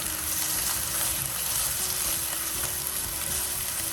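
Eggplant fries in a pan as it is stirred, with a dense, continuous close sizzle and faint scraping from the stirring, and no voices.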